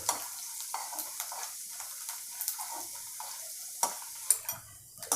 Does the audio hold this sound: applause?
no